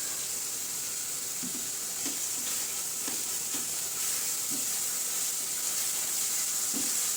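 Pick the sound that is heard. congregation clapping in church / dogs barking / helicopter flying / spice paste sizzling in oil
spice paste sizzling in oil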